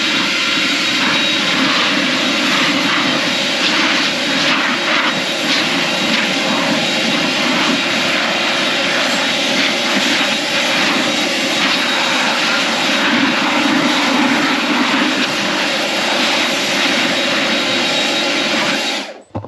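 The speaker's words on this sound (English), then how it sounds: "Since I have the blower nearby, I will blow this guy off" A leaf blower runs loud and steady close by for the full stretch as it clears debris off a log pile, a continuous broadband roar that cuts off abruptly at the end.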